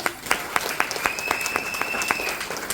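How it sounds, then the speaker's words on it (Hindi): Applause from a seminar audience at a DXN business talk, fairly distinct claps with some rhythmic sharp hits sounding close, while a sustained tone rings in the background. "एक जोरदार ताली आप सभी के लिए।"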